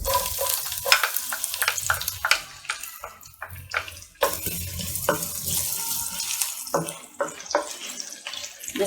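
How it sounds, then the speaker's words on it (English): Finely chopped ginger and garlic sizzle in two tablespoons of hot oil for Chinese egg noodles, with a steady crackling fry broken by repeated scraping and clinking stirs close by; no one speaks. "At this point, I'm adding ginger and garlic chopped finely."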